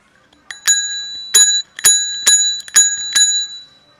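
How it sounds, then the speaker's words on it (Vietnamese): The built-in bell of a Bridgestone Villetta bicycle rings in a series of bright, crisp dings, about six strikes in quick pairs and singles, close and clear against silence. "Con này thì nó sẽ sử dụng cái chuông âm ở trong luôn."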